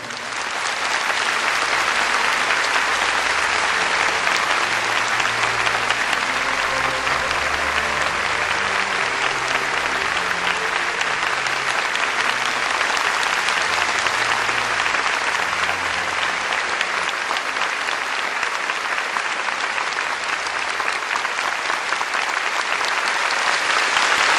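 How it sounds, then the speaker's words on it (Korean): A large audience at a Unification Church Seonghwa memorial ceremony applauds to welcome a speaker, producing a loud, dense, unbroken roar of clapping that holds steady for more than twenty seconds. "나오실 때 큰 박수로 환영해 주시기 바랍니다"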